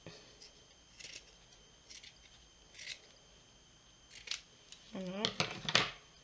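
Scissors snipping craft material for a gnome in a few short, quiet cuts that grow louder and quicker toward the end, following a brief spoken word.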